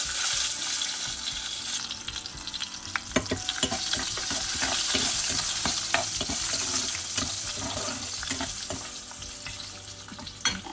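Garlic fries in hot oil with spluttering mustard seeds and asafoetida for a pepper garlic gravy (milagu kuzhambu). A loud, continuous sizzle runs throughout, broken by scattered pops and the clicks of stirring in the pan.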